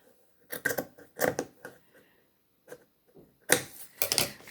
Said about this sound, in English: I'm going to put this piece on there and I'm going to go ahead and trim it off.